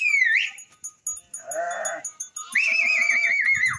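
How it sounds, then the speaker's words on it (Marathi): Sheep returning to a pen in the evening bleat loudly and repeatedly up close, with one long wavering call and others overlapping, and no one speaks. "मेंढ्या खूप आहेत माग अजून"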